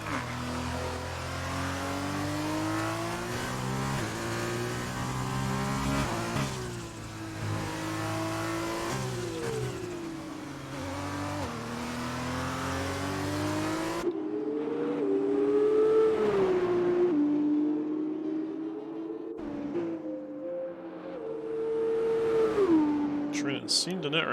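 A Formula 2 race car laps Zandvoort in a sim race, its engine revving hard through gear changes and rising and falling pitch, with a commentator talking over it and brief tyre squeal.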